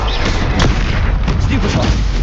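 A Bombarda blasting spell explodes in combat in the video game Hogwarts Legacy, a loud, dense, booming burst that runs throughout, with other crackling spell impacts mixed in.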